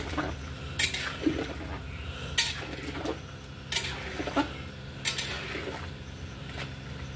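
Poppy seeds, cashews and milk are stirred in a pan for sukto, making repeated scraping, clinking strokes of a metal spoon against the pan at a loose regular rhythm over a low background hum.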